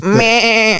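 A human voice imitates a Minecraft sheep bleat, a short, loud, wavering nasal baa lasting under a second.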